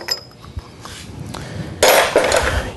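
Metal gas regulator seat on a Pietro Fiorentini TRIAS regulator being unscrewed with a socket and handled, giving sharp metallic clinks and clanks that grow louder near the end.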